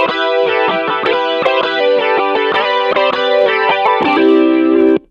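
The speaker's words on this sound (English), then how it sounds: "this is what it sounds like, just Archetype Tim Henson" Distorted electric guitar run through the Archetype Tim Henson amp plugin, played as a quick run of bright, picked notes with chorus-like shimmer, loud and dry with no other processing, ending on a held note.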